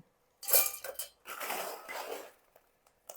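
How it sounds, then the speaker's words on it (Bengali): Hard rock sugar pieces drop into a mixer grinder jar in two clattering bursts of sharp clinks and rattles, close and fairly quiet against near silence, with a couple of faint taps after. "এই মিক্সির জার মধ্যে এই মিছরিগুলো এবার দিয়ে দেবো।"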